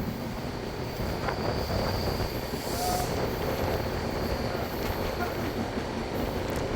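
A train runs along the rails near Podanur outside Coimbatore, a continuous loud rumble with faint wheel squeal and wind noise on the microphone.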